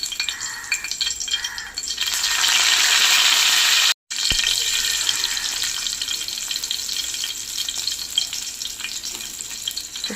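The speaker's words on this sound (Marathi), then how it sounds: "आता भाकरीचंच तव्यामध्ये मी आता तेल टाकून घेतलेलं आहे. छान असं लसूणची फोडणी देते त्याला मी." Garlic tempering sizzles and crackles in hot oil on an iron griddle pan used for bhakri. It is loud and steady, stops for a moment near the middle, then resumes alone with no talk.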